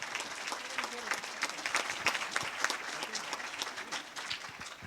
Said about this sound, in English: Another round of applause for our Colleen